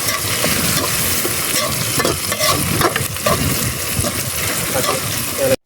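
Tomatoes sautéing in a pan for mutton fry, cooked outdoors beside the Bhavanisagar river, with a loud, dense, continuous sizzle and stirring scrapes throughout, close and without pause.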